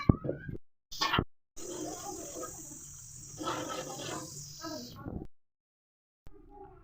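Water is poured into a pan of buttermilk curry for serving with jowar roti, a steady splashing pour running for several seconds between short breaks, close and moderately loud, with some talking around it.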